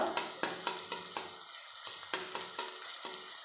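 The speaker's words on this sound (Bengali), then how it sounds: "বাটা রসুন এবার ভালো করে এমন করে খুন্তি দিয়ে ভেজে নেব।" Garlic paste fries in oil while a spatula stirs it. A lively sizzle comes with regular scraping and tapping strokes against the pan, close and clear, with no voices present.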